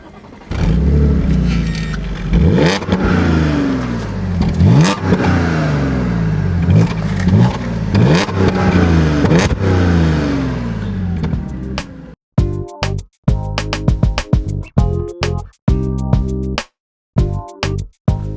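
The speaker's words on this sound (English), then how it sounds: "4 massive exhausts to let you know that there's more under the hood" A 2013 Audi S5 engine revs hard and steadily, its four exhausts roaring through repeated climbs in pitch, then cuts into short sharp bursts of blipping revs with gaps between.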